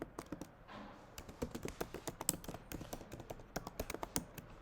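Rapid, uneven typing on a computer keyboard as input text is entered, dense close-up key clicks and taps running throughout at low volume with no voices.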